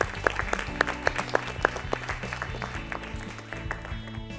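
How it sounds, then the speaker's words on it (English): An audience at a national quiz competition claps to welcome a guest coming on stage to hand out prizes; sharp individual claps stand out near the start before the applause thins into a lighter patter. "Let's clap for him please."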